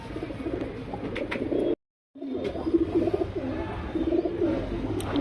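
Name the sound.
gulzar pigeons cooing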